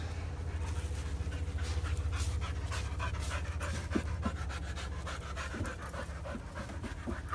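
A dog pants steadily and rapidly up close, with a few faint whimpers mixed in, and no voices over it.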